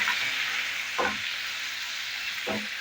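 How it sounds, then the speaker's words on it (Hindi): Curry leaves and green chillies fry in hot oil with a steady, close sizzle, while two brief scraping stirs cut through the crackle as they are mixed in. "ये है कड़ी पत्ता, ये हम इसमें ऐड करेंगे और इसको इस तरह कर लेंगे मिक्स।"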